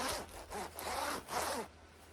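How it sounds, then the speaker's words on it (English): The sturdy zipper of an Arktis Digital DPM combat smock pulled back and forth in several quick rasping strokes, close and clear, with no talking. "The zipper on the smock is really nice and robust"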